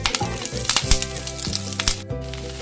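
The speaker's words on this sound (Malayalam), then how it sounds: "ആദ്യം നമുക്ക് ഈ കോളിഫ്ലവർ ഒന്ന് എണ്ണയിൽ ജസ്റ്റ് ഒന്ന് വറുത്തെടുക്കാം" Cauliflower frying in oil in a pan, bursts of loud close sizzling and spattering with a few knocks and stirs.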